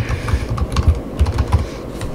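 Rapid, steady keystrokes tap out a name on a computer keyboard, close and clear, with no other sounds around them.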